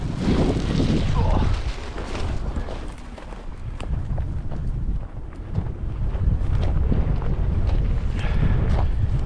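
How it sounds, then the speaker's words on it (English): Chilly wind sweeping across open swampy terrain along a rail line, a loud, continuous low roar buffeting the microphone in surging gusts, with faint speech-like murmurs buried beneath. "that wind's chilly every time we get out here into the open"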